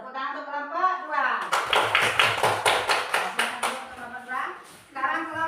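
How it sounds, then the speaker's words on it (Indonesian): A classroom of students claps for a presenting group in a short run of sharp, fairly quick claps, with voices talking just before and after the clapping. "tepuk tangan untuk kelompok 2"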